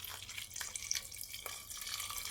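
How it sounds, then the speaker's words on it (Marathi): Water poured into a pot of lentils (dal) being readied for a pressure cooker with turmeric, asafoetida and salt, a soft steady splashing trickle with a few brighter drips, close and alone. "आणि डाळीच्या दुप्पट असं आपण पाणी घालणार आहोत।"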